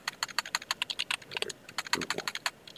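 Rapid clicking of keys on a computer keyboard, a steady run of close, crisp keystrokes with brief pauses, no voices.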